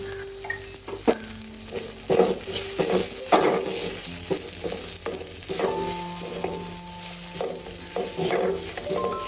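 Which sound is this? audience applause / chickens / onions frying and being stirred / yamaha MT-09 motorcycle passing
onions frying and being stirred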